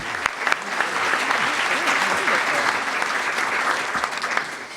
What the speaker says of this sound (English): And we'll give them a round of applause, please.